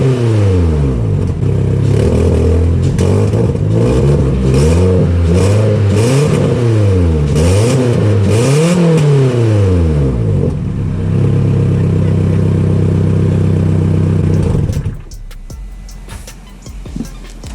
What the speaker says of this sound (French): On va démarrer l'auto, là. Ça va faire un bruit, mais de l'enfer.